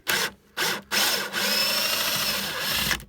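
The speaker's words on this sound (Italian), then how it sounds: "Quindi proviamo svitando anche col bullone." A power drill fitted with an extractor bit works to unscrew a stripped bolt, giving two short whirring bursts and then a longer sustained grinding run, loud and close, ending abruptly.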